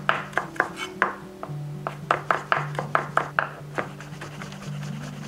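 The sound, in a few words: knife thinly slicing rolled Japanese shiso leaves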